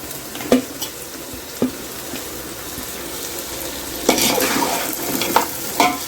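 Chili powder and biryani masala sautéing in a pan for chicken biryani, a steady close sizzle with occasional sharp scrapes and knocks of a stirring spoon, a denser burst of frying midway; no voices.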